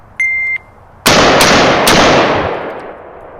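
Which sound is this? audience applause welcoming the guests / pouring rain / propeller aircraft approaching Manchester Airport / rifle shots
rifle shots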